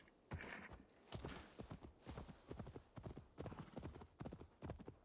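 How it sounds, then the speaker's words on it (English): Horse hooves clip-clop in a steady walking rhythm in a video game, close and fairly loud, with a brief whinny near the start and short bursts of spoken game dialogue over the footfalls. "Let's go, horsey."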